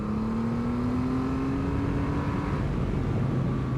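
The engine of a 2024 Triumph Rocket 3 Storm motorcycle revs steadily upward, a loud continuous drone with a rising pitch heard up close, with no talking over it.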